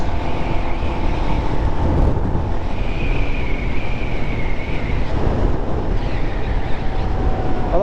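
Steady, loud engine drone with heavy wind rush, a Royal Enfield Himalayan motorcycle cruising at 70 mph around 5,000 revs with a constant high-revving hum throughout.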